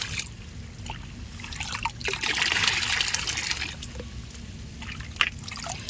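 About two litres of water are poured and stirred into an OWDC plant solution, giving a steady splashing trickle that swells in the middle and then eases, with a few small drips near the end.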